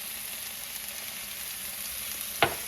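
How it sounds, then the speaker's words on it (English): Wet broccoli sautéing in a hot pan gives a steady, close sizzle that runs the whole time, with one sharp clink or pop near the end and no voices. "now we're just going to saute them for a couple of minutes"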